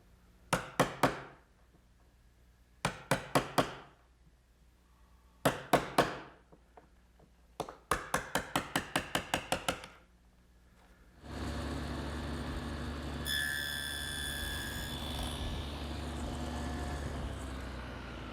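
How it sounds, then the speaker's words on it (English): Ordinary hand chisel squaring out wood rabbets and dados for a chest of drawers: several quick bursts of sharp chopping and tapping strikes in groups, close and crisp, then a steady loud machine roar takes over. "All the rabbets and dados that we've made have to be chiseled out so that they're square"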